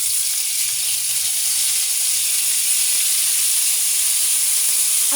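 Milkfish going into simmering vinegar paksiw broth, giving a steady, loud hiss and bubbling sizzle that holds evenly throughout with no talk over it.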